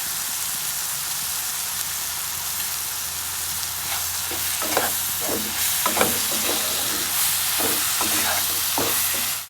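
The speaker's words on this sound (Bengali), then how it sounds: "আমি একটু শুকনো করে কষিয়ে নেব" Spice paste with salt and turmeric fries dry in a pan for salted hilsa paturi, a steady close sizzle with scraping stirring strokes that grow busier toward the end, no speech.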